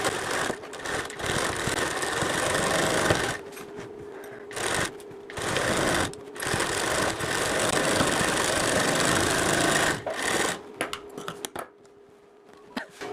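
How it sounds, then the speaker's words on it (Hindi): An electric sewing machine stitches a bridal blouse in steady, close, whirring runs, stopping and restarting several times with short pauses between bursts and no talking. "तो मैं यहीं पे इस पर दूसरी सिलाई लगा देती हूँ।"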